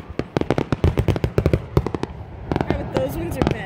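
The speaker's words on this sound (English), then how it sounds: "Oh, look, there's fireworks over there." Fireworks crackle and pop in rapid bursts outdoors, a dense rattling volley of sharp reports, while people talk nearby.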